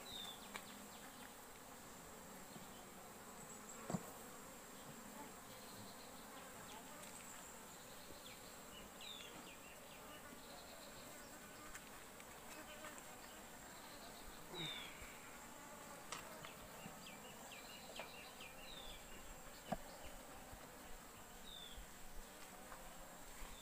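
Asian honeybees (Apis cerana) hum in a steady, low swarm during honey extraction, a soft continuous buzz with individual insects briefly passing closer.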